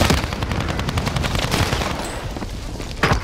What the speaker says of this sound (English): I'm getting shot from up above.